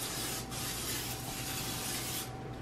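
Cooking spray hisses steadily onto a baking pan over a kitchen sink while preparing monkey bread, one continuous close spray lasting a couple of seconds with no talk.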